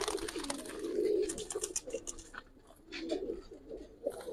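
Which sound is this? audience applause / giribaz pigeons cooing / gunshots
giribaz pigeons cooing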